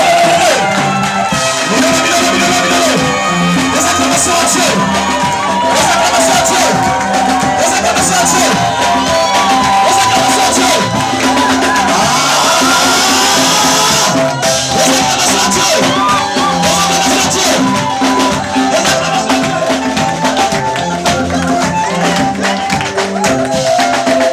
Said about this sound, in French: on va faire des acclamations à Dieu